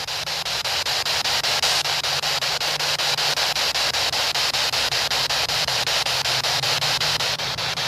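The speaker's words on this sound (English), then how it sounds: "if the white noise gets too much for you guys" Continuous hiss of white noise and static from a ghost-hunting device during a cemetery walk, steady and loud throughout with a faint low hum beneath and no speech.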